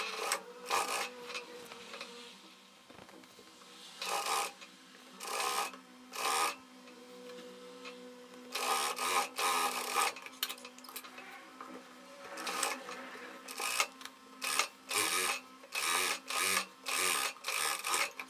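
Sewing machine stitching rows of shirring elastic onto an off-shoulder puff-sleeve dress, set to its widest stitch, running in repeated short bursts separated by brief pauses, close and fairly loud with no talking.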